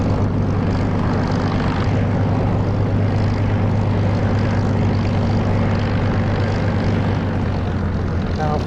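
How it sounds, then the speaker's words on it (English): A propeller aircraft engine in the DCS flight simulator is throttled back for a turn, giving a loud, steady, close droning hum with a constant low tone throughout. "now I'm throttling back a bit to make a turn so that I don't swing about wildly."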